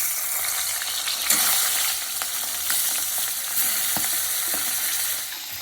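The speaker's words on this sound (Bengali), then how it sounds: "তেল গরম হয়ে গেছে এবার মাছগুলো দিয়ে দেবো" Fish heads sizzle steadily in hot oil with salt and turmeric, a loud, close, constant frying hiss with occasional sharper crackles and pops, with no talking over it.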